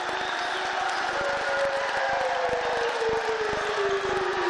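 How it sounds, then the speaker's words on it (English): A basketball crowd roars and cheers loudly and continuously after MJ Walker Jr. scores, a sustained wall of noise with whistles and shouts, a commentator's voice faintly underneath. "the crowd has responded"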